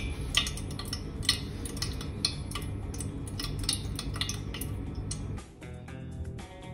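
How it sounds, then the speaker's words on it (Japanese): Oil being reheated in a pot to drive out its remaining water pops and crackles in small irregular snaps over a low bubbling bed, the crackling thinning out near the end. "水分が飛んでくるサインにパチパチという音がしてきます。"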